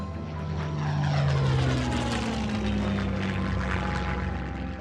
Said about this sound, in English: 5 torpedo bomber planes from the US Navy took off from Florida, known as Flight 19, for a routine training session lasting about 3 hours.